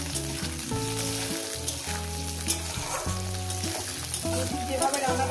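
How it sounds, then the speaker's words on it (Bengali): Green chili and garlic fry in oil over a medium gas flame, a soft continuous sizzle running beneath louder background music. "দিয়ে এটাকে মিনিমাম 3 থেকে 4 মিনিট ভাজতে হবে।"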